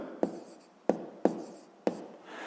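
Pen writing on paper while working a sixth-grade fraction subtraction exercise, four quick scratchy strokes in a row, close and fairly quiet, with no speech over them.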